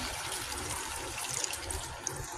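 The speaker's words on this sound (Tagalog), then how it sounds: "Ayan, nilagay na natin ng tubig." Water is poured into a pot of chicken and pork kaldereta, giving a continuous close splashing gush with no pause.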